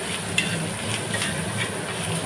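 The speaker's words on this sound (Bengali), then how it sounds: "ওই মাছের ডিমগুলো আমি একটু তাওয়ার মধ্যে ভেজে নিচ্ছি, দেখতেই পাচ্ছ, পেঁয়াজ দিয়ে, কাঁচা লঙ্কা" Fish roe sizzling on a hot tawa with onions and green chilli, a steady close crackle and hiss of frying that runs unbroken throughout, with no voices.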